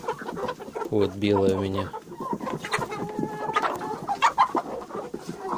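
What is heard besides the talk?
young broody hen clucking in nest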